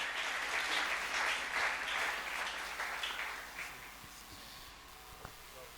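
A church congregation applauds the Lord during a sermon. The clapping is dense and sustained, then thins and fades toward the end.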